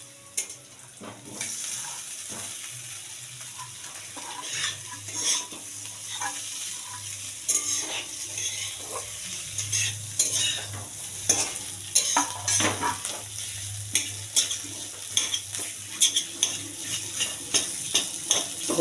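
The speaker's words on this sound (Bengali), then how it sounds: "লাল লাল ভাজা হয়ে এসছে, এর মধ্যে আলুগুলো আমি ছেড়ে দেবো।" Potatoes drop into hot oil that has been frying until reddish and crackle steadily while a utensil scrapes and knocks against the pan in frequent irregular strokes. A low hum sits underneath the sizzle.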